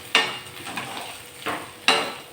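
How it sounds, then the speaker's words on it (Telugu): Homemade ginger paste frying in a pan while it is stirred, giving three short scraping bursts over a soft, low sizzle. "ఇది బాగా పచ్చి వాసన పోయేదాకా వేయించుకోవాలి."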